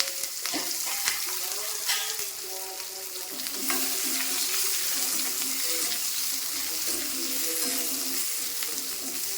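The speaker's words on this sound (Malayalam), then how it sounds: "നമ്മുടെ ചെറിയ ഉള്ളിയും കൂടെ ഒന്ന് മൂപ്പിച്ചെടുക്കാം" Small shallots frying in leftover oil in a pan, making a steady close sizzle with occasional stirring clinks and scrapes.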